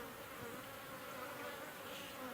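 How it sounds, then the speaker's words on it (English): A steady, even hum of many honey bees rises from an open beehive, a soft continuous buzz with no voices over it. "There's a lot of bees in here."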